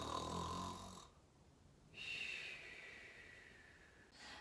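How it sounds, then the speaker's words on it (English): Santa Claus snores in his sleep inside a barn, giving two or three slow, rasping breaths with a short quiet gap between them, close and fairly soft. "Inside the barn, Holly found Santa Claus fast asleep and couldn't help but giggle at his snoring."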